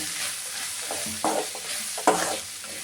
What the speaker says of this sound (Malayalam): ഇതിനെ നല്ലപോലെ ഇളക്കി യോജിപ്പിച്ച്